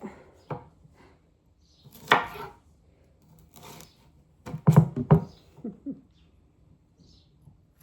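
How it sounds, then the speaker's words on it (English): Broccoli being cut with a knife on a board, several sharp chopping knocks spaced irregularly, with a quick cluster of cuts near the middle and quiet between. "I'm going to cut these broccolis"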